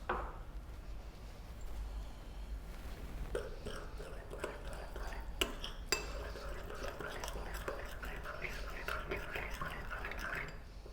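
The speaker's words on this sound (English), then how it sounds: "And I'm going to give that a mix." Ghee, garlic ginger paste and a little water are stirred together for masala fried fish, giving quiet wet scraping and squelching sounds with a few soft utensil clinks over a steady low hum.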